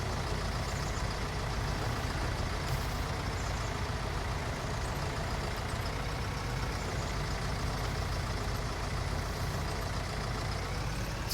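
Tractor engine in Farming Simulator 19, a steady loud droning rumble that runs unchanged throughout, with no voices over it.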